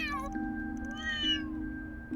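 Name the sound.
kittens meowing in video game Trails through Daybreak 2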